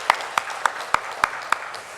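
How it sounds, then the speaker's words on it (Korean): Six sharp, evenly spaced claps ring out in a church service, loud and close, as a congregation starts applauding in blessing. "우리 박수로 축복하겠습니다."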